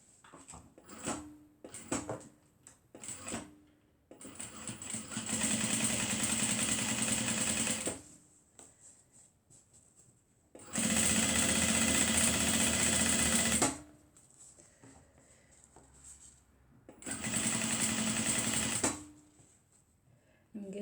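Sewing machine stitching a foldover clutch purse in three bursts of steady whirring, about three seconds each, with quiet pauses and small handling clicks in between.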